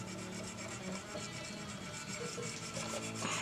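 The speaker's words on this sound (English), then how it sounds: "I'm just gonna kind of change the direction that I'm sanding in a little bit" Steady back-and-forth hand sanding on a knife blade, a continuous close rasping scrape with an even rhythm and no talking.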